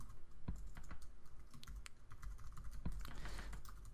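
Fast, continuous typing clatters on a computer keyboard while entering email fields in a coding tutorial, the keystrokes close and rapid with no pauses.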